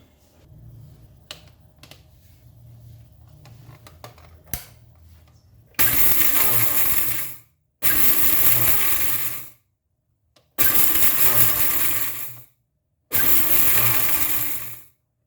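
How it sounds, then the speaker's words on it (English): A Bosch mixer grinder grinds pickle masala spices to a coarse powder in four loud, roaring bursts of about two seconds each, separated by short silences, after a quiet start of low kitchen rumble. "Now let's grind this to a coarse powder, and this is my Bosch mixer grinder."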